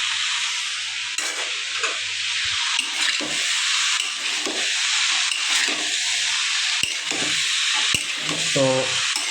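Chickpeas frying in a pan, stirred with a small metal spatula: a constant loud sizzle with repeated scraping and clinking strokes against the pan, and a voice speaking briefly near the end.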